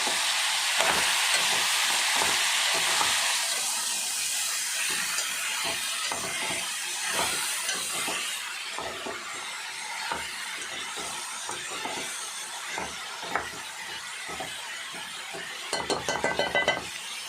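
Broad bean curry frying in a pan gives a loud, constant sizzle and hiss, with repeated scraping and clinking strokes as it is stirred, and no talking.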